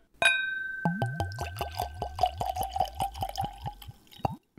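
A cork pops from a bottle of Weller Antique 107 bourbon, a sharp single pop, then the liquid glugs out in a quick rhythmic series of rising gurgles, close and clear without talk.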